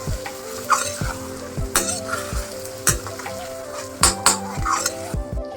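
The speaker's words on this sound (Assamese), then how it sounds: "বিলাহীটো পেলাই দিম" Tomato goes into broiler chicken meat frying in a pan, which sizzles steadily while a metal spatula scrapes and clanks against the pan at an uneven rhythm, close and fairly loud.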